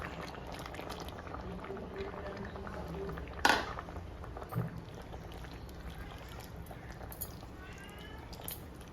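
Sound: curry boiling in a pot

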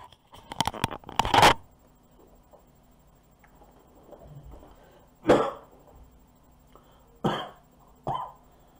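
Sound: coughing

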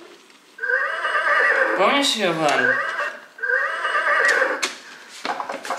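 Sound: toy horse neighing and hoof clip-clop sounds

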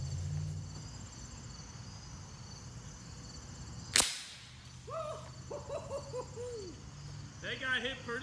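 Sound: Winchester Model 70 big bore air rifle shot at playing cards

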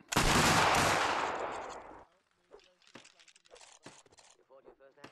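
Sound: rifle volley fired by reenactors of 33rd Regiment of Foot

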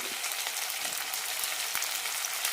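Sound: sautéing tomato with masala in a pan

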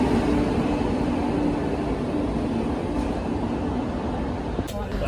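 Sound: Padatik Express train arriving at platform

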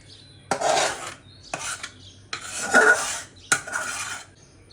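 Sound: boiled mango being pressed through a perforated strainer

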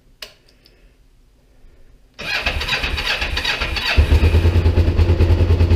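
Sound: motorcycle engine cranking and starting

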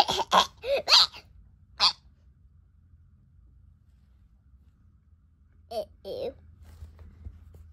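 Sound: coughing

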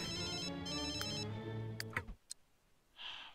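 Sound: phone ringing in The Sims 3 video game

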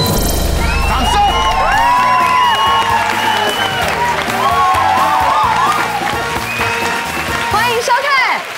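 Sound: audience applause in TV studio

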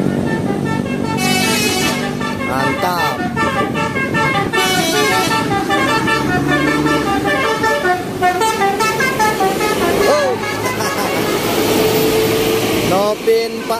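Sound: Satu Nusa bus driving past

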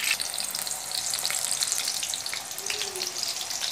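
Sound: potatoes frying in oil

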